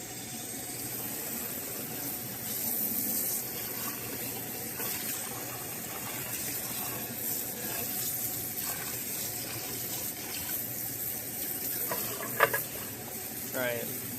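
Volkswagen Passat parts scrubbed by hand with Dawn Power Suds and Purple Power degreaser in soapy water, a quiet continuous wet swishing and brushing with occasional splashes and a sharp knock near the end.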